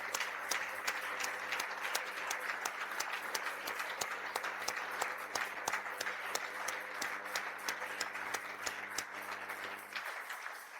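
A church congregation applauds in a steady, dense stretch of clapping that fills the room for about ten seconds before stopping abruptly.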